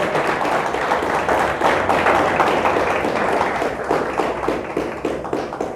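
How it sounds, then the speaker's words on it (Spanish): A church congregation claps loudly during a sermon, a dense and sustained burst of applause with a rhythmic patter that holds steady throughout. "Le damos un fuerte aplauso a Dios."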